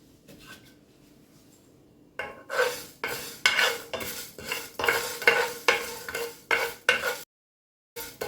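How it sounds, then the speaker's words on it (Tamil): Curry masala spices being dry roasted in a pan for a homemade curry and garam masala, a run of rhythmic scraping stirs and dry rattles of spices and ladle against the pan, close and steady, with a short silent gap near the end. "அதனால் நான் இப்போ வறுத்து உங்களுக்கு காட்டுறேன்."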